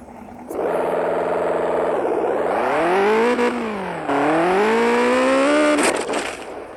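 A fast car in the crash-physics game Turbo Dismount revs and accelerates loudly, its engine whine rising, dipping as it shifts, then climbing again in steady sweeps before cutting off.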